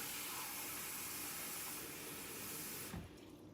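A cup of water runs steadily into a pot for peach butter in a home kitchen, a continuous splashing stream that stops abruptly near the end.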